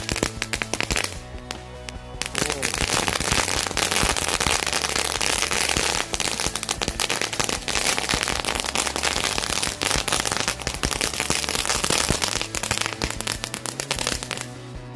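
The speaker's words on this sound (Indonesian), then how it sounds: "kita nyalain 3 pak sekaligus mercon telur dino" Three packs of dino-egg firecrackers lit at once pop and crackle rapidly and continuously, a long, dense string, loud and close, with brief lulls.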